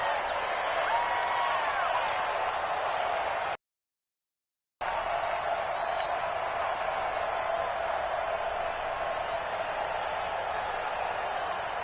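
A stadium crowd in a PS4 football video game, Tampa Bay Buccaneers against Seattle Seahawks, keeps up a steady, fairly quiet wash of cheering and murmuring that runs almost the whole time, broken by one brief silent gap.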